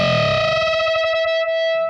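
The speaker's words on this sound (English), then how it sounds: "the very first note is an E. And then this note is a D. But we're bending up to the E. And it creates this really dissonant sound." Distorted electric guitar in a riff, an E ringing against a D bent up toward it, giving a sustained, clashing, wavering two-note sound with a short picked rhythm underneath.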